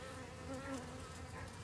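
A wild swarm of dark, slender bees hums in a steady, even drone close by, with no voices over it.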